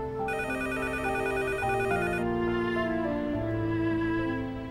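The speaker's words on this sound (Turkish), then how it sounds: "ben telefona bakayım" Telephone ringing at home in a dramatic series scene, a loud electronic ringtone with repeating bright tones playing steadily over a soft musical bed, no voices.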